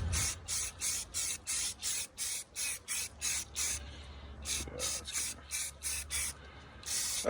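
A spray paint can coats an AR-15 rifle in a series of short, close hissing bursts with brief pauses between them. The hissing is loud and regular, and no one speaks.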